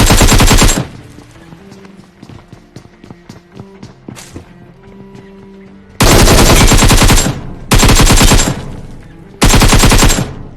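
Automatic gunfire in the PUBG Mobile battle royale game comes in loud, dense bursts at the start and three more near the end, with quieter footsteps and in-game clatter in between.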